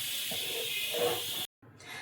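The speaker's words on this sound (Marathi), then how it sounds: "आता एक शिट्टी काढून घ्यायची आपण कुकरला" A pressure cooker lets off steam with a steady, fairly faint hiss while milk-cooked carrot halwa is on, cutting off abruptly to near silence before the hiss resumes.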